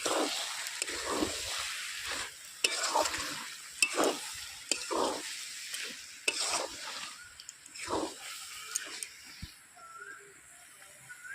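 Mung dal with cabbage being stirred in a pan, a soft ongoing sizzle broken by repeated scraping strokes and light clicks of the spoon, heard close with no talking.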